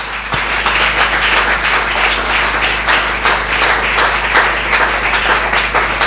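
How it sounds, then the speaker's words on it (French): A church congregation bursts into applause, dense and sustained clapping filling the room at close range for several seconds without speech. "On peut acclamer pour la parole."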